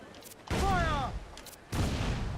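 Ship cannons fire in Assassin's Creed IV: Black Flag as two loud, booming blasts about a second apart, with a shouted voice between them.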